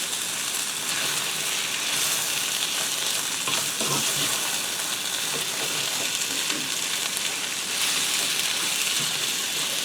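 Diced potatoes and ham sizzle and fry in a cast iron skillet with a steady, even hiss and an occasional stir, with no talking.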